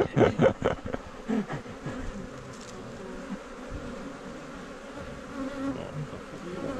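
Honeybees buzz steadily around an opened hive at a teaching apiary, a close, continuous drone with a few louder passes near the start, and no talk over it.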